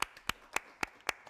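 Hand claps sound in a TV studio as a guest is welcomed: a few sharp, evenly spaced claps, faint and close, more like a lone pair of hands than a full audience.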